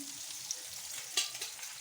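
Soft, steady sizzling of eggplants frying in oil in a pan, with faint crackles and a couple of light utensil clicks, close by.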